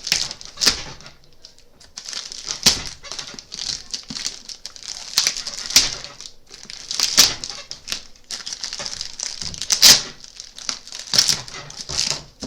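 Cardboard-packed product being unboxed: packaging crinkles and rustles in irregular bursts, with sharp crackles and handling thumps rising and falling near the listener, and no voices.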